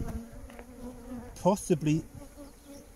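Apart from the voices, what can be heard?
honey bee swarm buzzing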